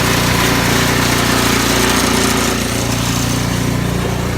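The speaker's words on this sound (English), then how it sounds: "So I've had the snowblower running for about 5 minutes now, just getting warmed up" A snowblower engine freshly repaired after a carburetor fix runs steadily and loudly up close, a continuous buzzing drone with no breaks and no talking.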